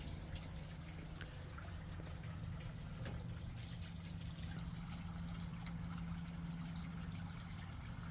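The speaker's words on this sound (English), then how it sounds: "just listen to the sounds of the water" Steady, gentle water trickling and splashing continuously in a front yard, with a low hum underneath, close by and unbroken, no voices.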